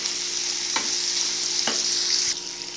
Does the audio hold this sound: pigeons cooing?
no